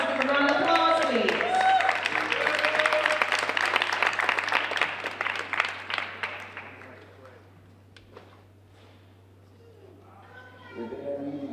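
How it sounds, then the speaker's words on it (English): An audience at an arts school stage applauds to welcome a performing group, a dense, steady round of clapping that swells for several seconds, then thins and dies away before a voice speaks over a faint hum. "Give a round of applause, please."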